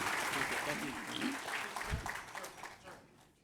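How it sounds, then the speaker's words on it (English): Audience applause at an annual banquet, a wash of many hands clapping that swells and then tapers off toward the end, with voices mixed in. "I'm proud and want to give all of them a round of applause"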